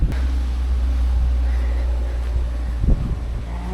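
Steady low-pitched wind rumble buffets the microphone throughout at a campsite in the early morning, loud and continuous, with a brief thump of movement near the end.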